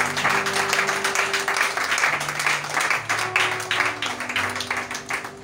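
Congregation applauding during a church worship service, steady dense clapping filling the space throughout, with sustained tones of music or voices underneath.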